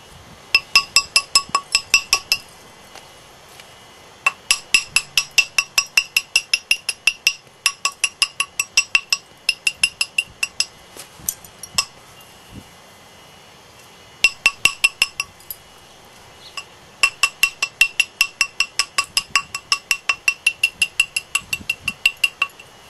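A stone biface is being shaped by percussion knapping, with sharp bright clicking strikes in rapid rhythmic bursts separated by short pauses, close and crisp with nothing else heard.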